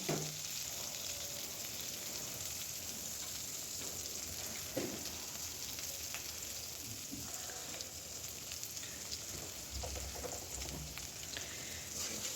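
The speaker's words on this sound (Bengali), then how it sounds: "এবার সব কিছু একসাথে ভেজে নেব" Steady, dense sizzling of vegetables with turmeric and salt frying in a hot pan, continuous and close, with occasional soft stirring clinks.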